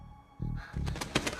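Short cooing bird calls, pigeon- or dove-like, come in soft bursts over a low background.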